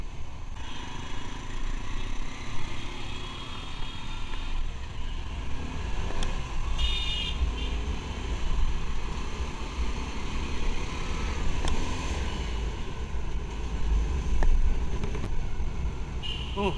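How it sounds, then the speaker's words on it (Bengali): A Suzuki Gixxer 250 motorcycle cruises along a highway, its smooth, refined engine droning steadily under heavy rushing wind, with no talking and a few brief clicks and shifts along the way. "এত স্মুথ ইঞ্জিন, রিফাইন ইঞ্জিনের যে একটা পার্থক্য, এটা আমি পাচ্ছি"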